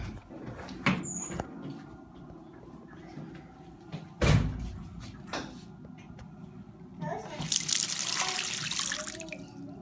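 Water running from a tap into an old American Standard sink in the older part of a courthouse restroom, a steady rushing in the latter part after scattered knocks and clunks, with people talking.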